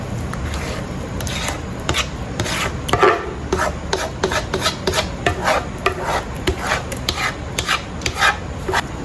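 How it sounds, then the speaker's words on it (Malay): Banana lepat batter being mixed with coconut milk by hand, giving continuous wet rubbing and scraping with irregular squelchy strokes, close and moderately loud. "sekarang saya akan campurkan Campurkan adunan ni jadi satu"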